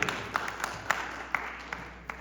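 A few scattered hand claps from a small audience at a Victory Day celebration, sparse and uneven over a soft background murmur.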